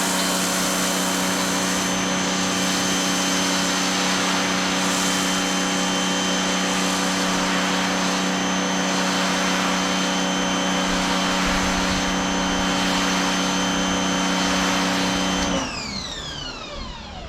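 Lidl Parkside electric pressure washer pumping foam through a foam lance, a loud steady motor whine with constant hiss that runs evenly, then winds down quickly near the end.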